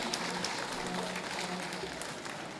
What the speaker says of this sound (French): un chaud applaudissement pour le ministre de la Santé, Dr Sinal Bertrand